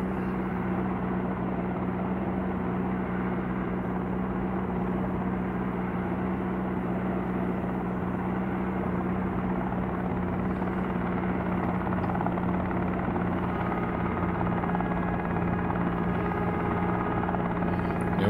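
Helicopter engine and rotor in a helicopter simulator video game, spooling up with throttle and collective: a loud, continuous, steady drone with a low rhythmic rotor chop, heard alone throughout.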